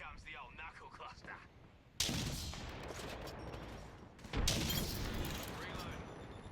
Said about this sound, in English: Here comes the old knuckle cluster